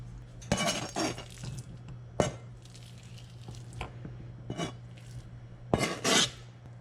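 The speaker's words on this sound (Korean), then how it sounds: "이 정도 되면은 그릇에 옮겨줄게요" Chopped chicken breast scraped and moved into a bowl in a kitchen, with several sharp clinks and knocks of dishes and utensils spaced irregularly over a low steady hum, close and fairly quiet, no talking.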